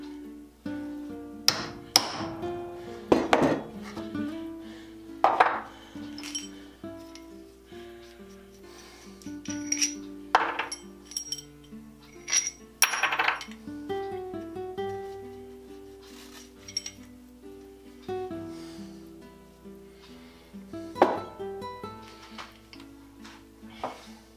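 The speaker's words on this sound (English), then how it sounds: "It's just a gasket cutter." A gasket cutter punching a series of holes in a Scotchbrite polishing wheel: sharp, close taps and knocks at irregular intervals, with some metallic ringing between strikes.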